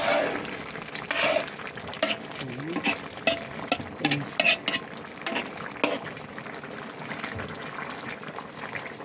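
Squash cooking with string beans in a pan is stirred with repeated scraping strokes over a low sizzle, close and moderately loud.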